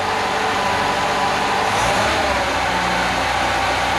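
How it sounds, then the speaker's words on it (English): An abandoned Volvo 340 car engine is held at high revs, a loud, steady close roar that swells briefly midway and carries on without a break, with no voices over it. "Keep revving it, keep going."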